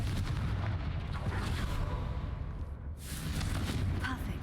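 Explosive blasts from the Confringo spell in the game Hogwarts Legacy, booming bursts that crackle and rumble loudly up close, with voices talking over the action.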